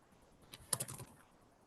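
A brief burst of computer keyboard typing, a quick cluster of close key clicks lasting about half a second, then quiet room tone.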